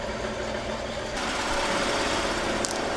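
Embroidery machines stitching hats, a steady fast mechanical whirring hum that runs the whole time, growing slightly louder partway through, with no talk.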